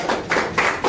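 A brief burst of audience clapping at an Indonesian national energy self-sufficiency discussion forum, several quick overlapping claps heard close and fairly loud.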